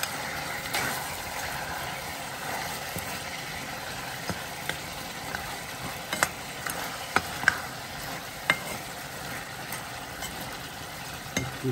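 Tomatoes fry and get stirred into a Nepali-style buffalo curry: a quiet, steady sizzle with scattered scraping clicks of the stirring utensil, and no talking.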